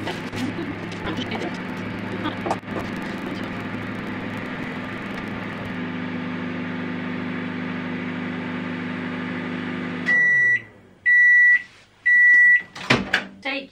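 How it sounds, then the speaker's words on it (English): Microwave oven heating milk with Lindor chocolate hums steadily for about ten seconds, then stops and gives three loud, spaced completion beeps. "I put that in the microwave for 2 minutes"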